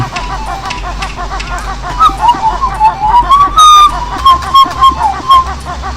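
A person whistles a wavering melodic tune over game music during Banjo-Kazooie play in the Click Clock Wood level, steady and moderately loud with a faint background bed.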